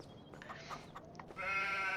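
Sheep bleating on a farm in a video game: a soft, nasal bleat, then a louder sustained one near the end, over a steady low background hum.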